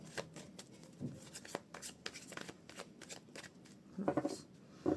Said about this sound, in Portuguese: senti que devo baralhar um pouquinho mais